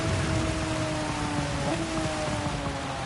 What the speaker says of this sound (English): knowing that it was going to rain